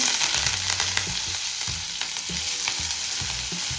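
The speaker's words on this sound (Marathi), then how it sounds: "आता आपलं जिरे मोहरी छान तळतळली की या स्टेजला कडीपत्ता ऍड करून घ्यायचा आहे" Curry leaves crackle and sizzle loudly in hot oil with cumin and mustard seeds, a dense continuous fry with sharp spitting pops and occasional stirring clinks, close and alone without talk.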